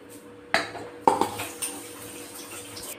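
Pointed gourds (parwal) being washed in a bowl of water, with several sharp clinks and knocks of vegetables against a metal dish and soft splashing, close and fairly quiet.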